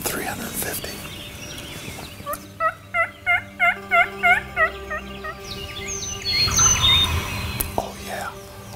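A wild turkey gobbles in a rapid series of about eight bursts, with softer hen yelps and clucks around it, fairly close and loud outdoors.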